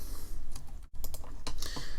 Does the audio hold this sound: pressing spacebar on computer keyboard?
yes